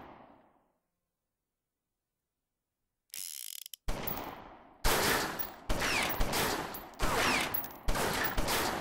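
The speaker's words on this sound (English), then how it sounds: "we should be able to fire off 2 shots at this guy" Gunfire in the gangster game Omerta: City of Gangsters, a burst of loud, close shots in quick succession after near silence, each crack followed by a brief mechanical ring-out.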